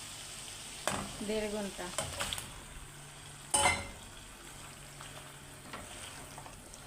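Marinated beef frying in a pan for beef curry, a quiet sizzle with a few bursts of scraping and clatter as it is stirred, and a brief voice early on.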